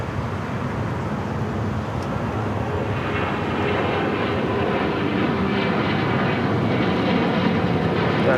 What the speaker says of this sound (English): Next takeoff is the flight to Cancun. United Airlines flight 1276, the 737-900ER.